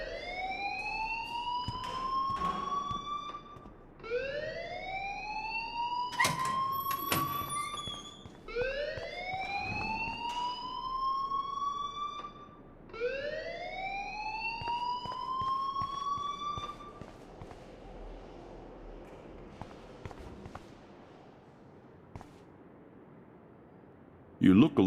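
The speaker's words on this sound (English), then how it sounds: "please turn off that alarm since that's your job" A repeating electronic fire alarm in the video game Life is Strange, rising siren-like whoops cycling steadily and loudly, with dialogue spoken over it.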